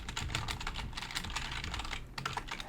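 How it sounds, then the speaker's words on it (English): Rapid clacking of a loud mechanical computer keyboard being typed on steadily, close up and continuous, with no voice over it. "Sorry, my keyboard is loud, mechanical keyboard"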